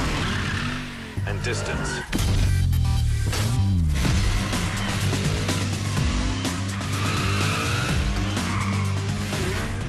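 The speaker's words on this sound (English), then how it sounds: "Use the handbrake to kick off the drift, then feather the throttle and brake to maximize it." A car drifts in the racing game Need For Speed Shift, its engine roaring loudly as the tires squeal and skid through a sustained slide, while someone talks over the action.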